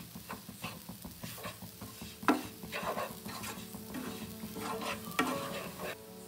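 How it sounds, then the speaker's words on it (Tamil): Aval puttu made from flattened rice is stirred in a pan over a steady frying sizzle, with a spoon scraping and knocking at a regular pace and two louder clanks standing out. "ஒரு 5 மினிட்ஸ் நல்லா கிளறி விடுங்க."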